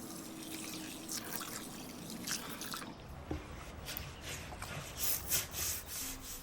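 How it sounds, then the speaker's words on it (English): A soft brush scrubs a cast iron skillet in a tub of warm soapy water, giving close, quiet rhythmic rubbing and sloshing with small drips and splashes throughout. "I'll place the pan in a tub of warm water and add dish detergent, then scrub with a soft brush."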